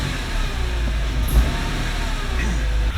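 A BMW E46 M3 engine idles steadily in a continuous, even rumble with a fresh battery installed, heard close up with no talking.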